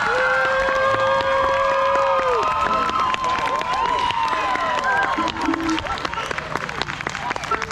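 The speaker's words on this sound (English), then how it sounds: "in order to get an encore, you have to clap like crazy for just a little bit" Crowd at an outdoor bluegrass concert in Pleasant Grove, Utah, clapping hard for an encore, with loud cheering, whoops and shouting voices over continuous dense applause.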